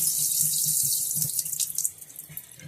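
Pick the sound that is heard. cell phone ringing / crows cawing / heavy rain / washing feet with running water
washing feet with running water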